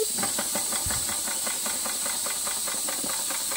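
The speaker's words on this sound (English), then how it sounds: "Now let's see if we can get the steam engine to work." A Weeden Model 14 toy steam engine running on compressed air chuffs rapidly and evenly, with a loud, close, steady hiss under the regular mechanical puffs.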